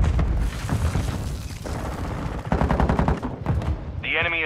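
Rapid gunfire crackles in a Call of Duty multiplayer match, dense bursts of automatic shots and booms layered together, loud and close, with a brief voice callout near the end.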